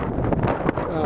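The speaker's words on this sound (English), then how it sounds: "Some wind coming out of the north here." Wind out of the north gusts and buffets the microphone on the summit of Mt Audubon, a steady low roar with bumps of rumble, while a person talks over it.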